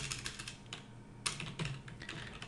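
Quiet, close-up typing of code on a computer keyboard, a run of soft, irregular key clicks with a few sharper taps and short pauses, with no talking.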